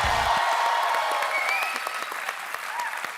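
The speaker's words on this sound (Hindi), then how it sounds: "जोरदार तालियां हो जाए एक बार।" Studio audience on a Hindi television comedy talk show applauds loudly and steadily, a dense burst of clapping that gradually thins out toward the end, with a few cheers mixed in.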